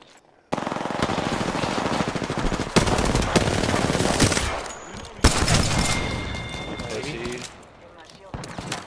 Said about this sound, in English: And there's another team trying to shoot us from the other side.